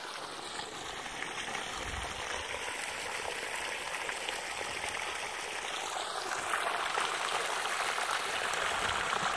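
Water leaks from a hole in a 10-inch polyethylene irrigation pipe, a steady close hiss and rush of spraying, trickling water that holds for the whole stretch with no talk.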